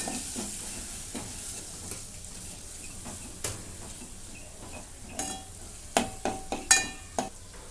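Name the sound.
sautéing coriander-cumin powder and garam masala in pan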